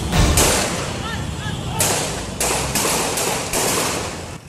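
Gunfire from an evening shootout in front of a mall on Commonwealth Avenue: a rapid series of about six loud, sharp bangs at irregular intervals over steady street noise.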